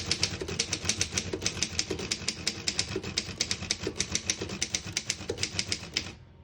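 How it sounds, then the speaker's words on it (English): Rapid, even keystrokes clack from a 1917 Underwood No.5 antique desktop typewriter typing a line in red ribbon, a crisp close series of about thirty strikes that stops abruptly at the end. "I'll type a sentence in red on the next line."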